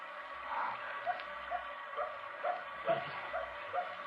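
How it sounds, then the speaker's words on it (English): A dog barks outside at night on a country road, a series of short, faint yips spaced about half a second apart over a steady hum. "There's that dog again. Don't you hear it?"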